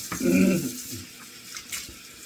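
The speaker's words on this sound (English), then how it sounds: "Let me splash on a little cold water here." Cold water splashed onto a face after a shave at a sink, a brief wet slosh near the mic followed by faint dripping, with no talking.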